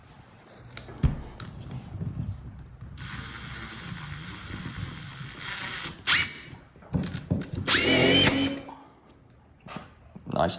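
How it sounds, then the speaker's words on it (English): A power driver sinks screws into wood in a couple of loud whirring bursts with a ratcheting impact rattle, close by, separated by brief handling noises; a voice speaks before the driving. "let's see if we can shoot some screws into this wood"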